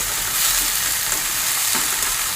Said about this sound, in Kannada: ಇದನ್ನು ಎಣ್ಣೆಯಲ್ಲಿ ಫಸ್ಟಿಗೆ ಸಖತ್ತಾಗಿ ಫ್ರೈ ಮಾಡ್ಕೊಳ್ಳೋಣ